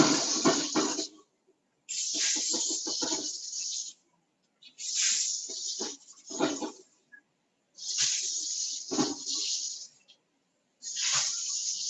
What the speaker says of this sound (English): rinse these peppers out just to get the last of the seeds out